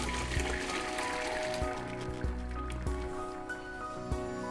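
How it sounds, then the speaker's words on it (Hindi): Boiled pasta being strained for white sauce pasta: water pours and trickles through a strainer with soft drips and squishy splashes, fairly quiet and close, with no talking. "अब इसे हम स्ट्रेन करेंगे।"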